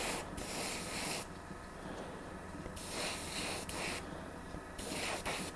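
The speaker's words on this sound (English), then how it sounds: "Got to remember to spray them more from the top," Spray paint hisses in three long bursts onto painted prop batons and a Mjolnir hammer, each spray close and steady with short pauses between.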